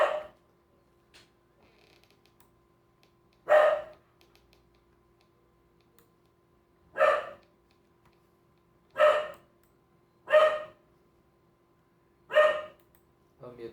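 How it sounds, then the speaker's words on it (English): A dog barks in six short, separate bursts spaced a few seconds apart, fairly close, with quiet stretches between them and no talk over them. "It waits until I unmute myself to keep barking."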